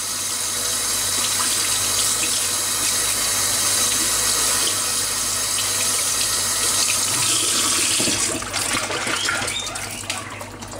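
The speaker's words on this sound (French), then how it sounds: "mettre de l'eau à ras-bord" Tap water gushes loudly and continuously into a rodent's drinking bottle being filled to the brim during cleaning, the stream shifting tone near the end as the bottle fills up.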